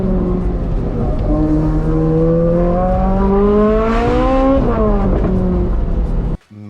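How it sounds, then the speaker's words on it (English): A Ferrari with custom-made mufflers accelerates, its exhaust rising into a sharp, high-pitched scream through the revs before a quick lift-off and a dip in sound at the end. "Custom-made mufflers change the pitch of the exhaust."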